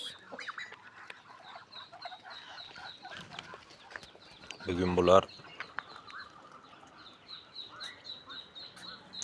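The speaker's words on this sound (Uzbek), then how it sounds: "Indutga ishqibozlari, qorabosh indut o'rdaklarimiz." Black-headed Muscovy ducks and ducklings make soft clucks and chirps close by, with a louder burst of calling midway, while a person speaks briefly over them.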